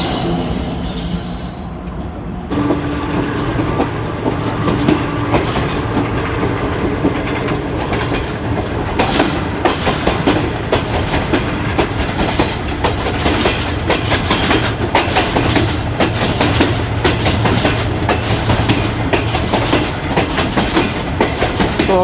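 Interior of a moving Pakistani express passenger train on the main line, loud and continuous with rhythmic clickety-clack of wheels over rail joints and a rumbling carriage, steady throughout.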